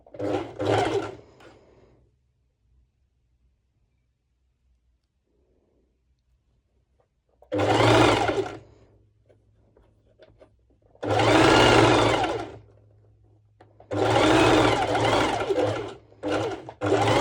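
A sewing machine runs stitches along the other side of a crop top in bursts of several seconds, separated by quiet pauses, close and loud with no talking.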